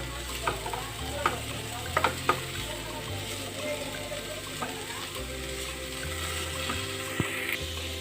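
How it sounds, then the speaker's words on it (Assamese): Banana flower frying in a pan is stirred with a utensil, scraping and clinking in uneven strokes over a steady crackling sizzle that runs for the whole stretch. "এতিয়া আকৌ কলডিলখিনি লৰাই দিম"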